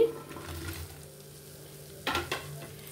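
Coriander seeds and spices fry quietly in a pan for amla roti pachadi, a soft sizzle under a faint steady hum, broken by two brief stirring scrapes near the end.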